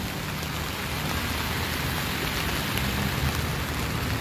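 Rain falls steadily at a construction site by a large excavation for the MRT7 rail project, a loud, dense, unbroken hiss of drops with no other sound standing out.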